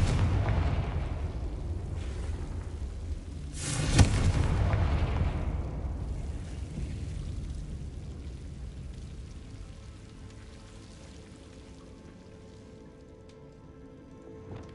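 In the video game Hogwarts Legacy, the Confringo fire spell bursts into a sharp explosion just before four seconds, then leaves a long crackling, rain-like rumble that slowly fades.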